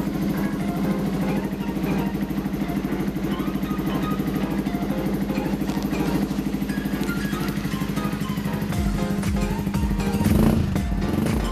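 A Sinnis Terrain motorcycle engine runs just after starting, a steady, close, rhythmic thumping idle that picks up briefly near the end, with no one speaking.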